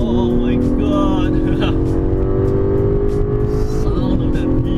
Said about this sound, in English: Sound of that V12, man, it's intoxicating.